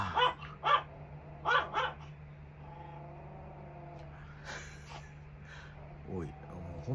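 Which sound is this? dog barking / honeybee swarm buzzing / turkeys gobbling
dog barking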